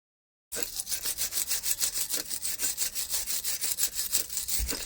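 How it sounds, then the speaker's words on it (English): A wire brush scrubs the surface of a Nissan Note's front brake caliper with quick, steady back-and-forth rasping strokes, close and continuous after a brief silent start. "we're going to clean the surface with wire brush"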